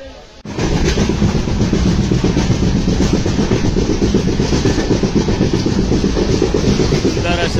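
Mandovi Express running on the Konkan Railway, a loud steady rumble of wheels and carriages with rhythmic clatter that starts abruptly and continues close and constant throughout.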